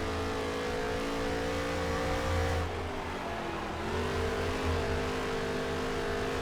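Stock car engines from NASCAR Heat 3 drone at Eldora, a steady, loud engine note that dips and recovers as the car passes others, with no speech.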